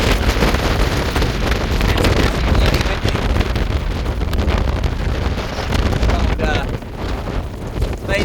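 Strong wind buffets a sailboat lying at anchor, a loud continuous roar with gusting microphone rumble and flapping, steady throughout with no pause.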